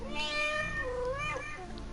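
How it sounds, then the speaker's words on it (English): A cat meows repeatedly in the fantasy video game Echoes of the Fey, its drawn-out, wavering cries steady and close over a soft game-music bed. "we have a cat meowing"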